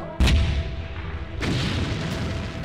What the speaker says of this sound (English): the big guns of Fort Drouant send out a steady barrage of iron